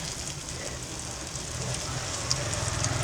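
Egg sizzling and crackling steadily in hot oil in a pan while being scrambled and broken up for egg fried rice, a continuous close frying hiss with no talk.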